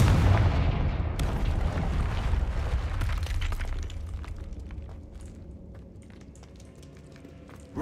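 A Confringo spell blast in Hogwarts Legacy bursts loudly, then its deep rumble slowly decays over several seconds, followed by faint scattered debris clinks.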